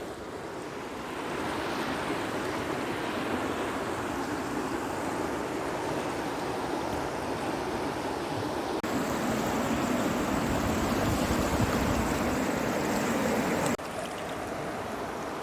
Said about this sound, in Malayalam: നമ്മുടെ ഈ പുഴ ഭവാനി പുഴ